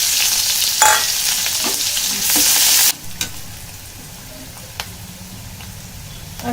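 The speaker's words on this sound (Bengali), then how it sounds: "পেঁয়াজগুলো তেলের মধ্যে দিয়ে দেবো।" Onions frying in hot oil in a wok, with dried red chillies already fried, make a loud, close sizzle for about three seconds, then a quieter crackle with a few sharp ticks of stirring.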